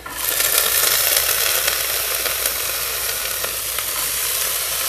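Potatoes crackling in hot oil, a loud, dense close-up sizzle with sharp pops throughout that eases slightly after the first second, with no one speaking.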